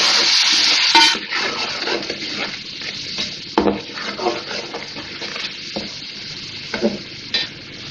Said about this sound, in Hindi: मसाला डाल के भूनेंगे।